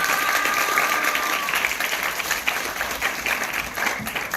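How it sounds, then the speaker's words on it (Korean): An audience claps after a student team's policy presentation at a youth policy proposal contest, heard as a steady wash of applause that fades slightly toward the end. "큰 박수 부탁드리겠습니다"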